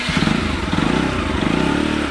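A motorcycle engine idles then pulls as the clutch is let out during a riding lesson, a close, loud, steady throb with rapid pulsing, no talk.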